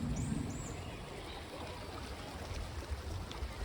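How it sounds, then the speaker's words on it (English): A small creek flows in a soft, faint, steady trickle beside a late-afternoon motorcycle rideout among trees and flowers, with a few faint chirps above it. "A beautiful little creek."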